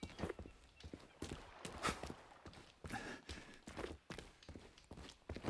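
Steady, rhythmic hoofbeats of a robotic horse in the video game Atomic Heart clop along at a trot, loud and close, with some other noises mixed in.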